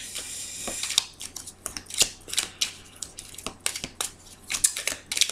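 A tarot deck shuffled and cut by hand, close and fairly loud, with irregular bright flicks and riffles spaced about every half second over a low steady hum, no voices.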